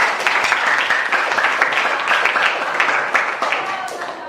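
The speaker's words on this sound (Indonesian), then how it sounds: "tepuk tangan buat Geo Fandi" A classroom of students applauds a classmate with dense, continuous clapping that stays steady and fairly loud throughout.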